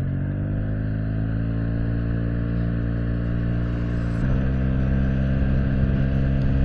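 A Yamaha T-Max scooter engine drones at steady high revs on a test ride, a loud continuous harmonic hum that steps up in pitch briefly midway and then holds.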